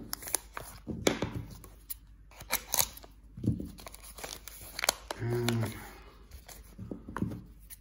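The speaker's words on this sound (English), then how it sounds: "Let's start with this package right here. We're gonna cut it open." A mail package is cut open at close range, with repeated snips, crinkling and tearing of packaging in short bursts, mixed with talking.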